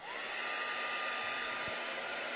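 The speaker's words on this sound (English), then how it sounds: "I'm going to get my embossing heat gun. And I'm going to emboss it." An embossing heat gun blows hot air in a steady, loud, close whoosh that holds unbroken throughout, with no voices.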